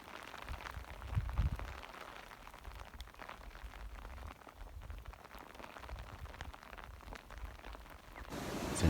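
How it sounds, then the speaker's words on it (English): Steady rain falls outdoors on a backpack hunting trip in foggy weather, a dense continuous patter with occasional louder drops and low rumbling gusts, no talking, rising slightly at the very end. "if you get stuck out in the rain like I am right now, yeah, pretty handy. Hopefully it'll stop soon"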